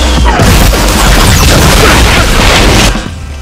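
A loud, dense roaring boom of missiles being fired and exploding fills almost the whole stretch, close and overwhelming before cutting off near the end.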